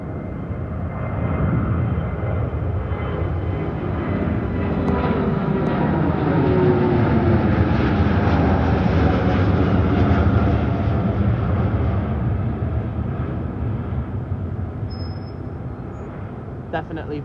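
A Virgin Atlantic airliner roars past at Heathrow Airport, a loud, broad engine rumble that swells and holds steady for many seconds before slowly easing off.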